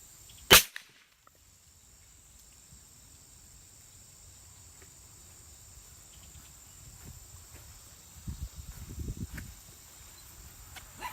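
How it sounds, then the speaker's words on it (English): A .22 rifle fires once at a fidget spinner, one sharp short crack near the start, then a quiet outdoor hush with a steady insect drone and faint rustling later. "So we're going to use this rifle first"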